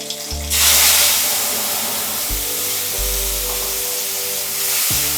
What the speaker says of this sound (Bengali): এর মধ্যে আমি যে মশলাটা করে রেখেছিলাম সেই মশলাটা দিয়ে দেব।